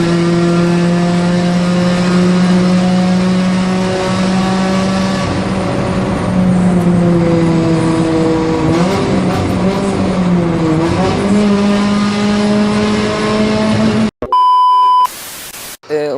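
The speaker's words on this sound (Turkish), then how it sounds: "işte gerçek vitek sesi" A Honda Prelude's VTEC engine revs high and loud with a strained, howling tone that rises and dips, then cuts off abruptly into a brief electronic beep.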